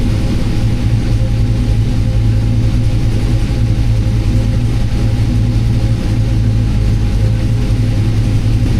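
A Holley Terminator X–tuned car engine with a Tremec TKX gearbox idles at about 800 RPM, a steady close low rumble with an even drone and no voices.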